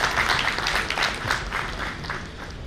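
An audience at a national convention's tech session breaks into applause, many hands clapping in a dense, even patter that stays fairly loud for the whole stretch.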